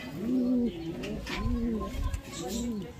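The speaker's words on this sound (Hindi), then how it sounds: "और ये कबूतर है दोस्तों।" A male pigeon coos close by, three soft rolling coos in a slow steady rhythm, with quiet background noise.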